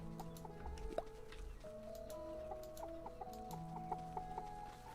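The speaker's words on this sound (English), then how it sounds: "Say hello to the chickens." Chickens in the video game Staxel cluck and squawk in short repeated bursts, several birds close by, with no talk.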